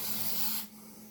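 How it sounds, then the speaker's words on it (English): A short, close hiss of spray adhesive from an aerosol can coating a DIY Milwaukee tool case, cutting off abruptly about halfway through and leaving quiet room tone. "you can also spray."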